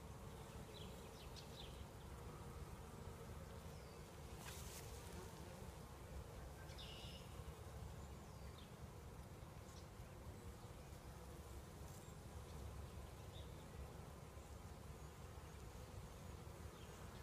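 Honeybees from a swarm buzzing steadily around a hive, a continuous dense hum with individual bees flying close past now and then, no voices.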